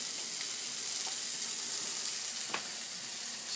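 Food cooks over an alcohol spirit burner set in a folding Sterno stove box, giving a steady, moderately quiet sizzle with a few faint pops scattered through it.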